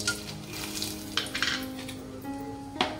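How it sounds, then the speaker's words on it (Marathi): Whole spices sizzle in hot oil for a prawn biryani, a close, crackling fry with occasional sharper spits and a faint utensil clink near the end. "तेल टाकते. खडे मसाले टाकते."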